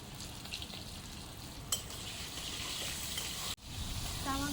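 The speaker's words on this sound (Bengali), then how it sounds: "টমেটো ভেজে নিয়েছি," Chopped tomatoes fry in hot oil seasoned with five-spice, giving a steady close sizzle with a few soft stirring bumps and no talking.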